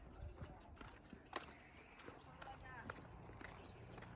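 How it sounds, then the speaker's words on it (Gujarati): A horse's hooves clip-clop at a walk on a village track in Lunsapur, close and uneven, with a few sharper strikes while people talk nearby. "હા ઘોડો"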